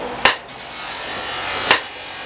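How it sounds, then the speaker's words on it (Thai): Small hammer striking metal while a knife blade is forged by hand in Lampang, Thailand: two sharp, bright clangs about a second and a half apart, close and loud against quiet. "มีอุปกรณ์ตีมีดเขาก็มีจะมีค้อน อันนี้ค้อนเล็ก"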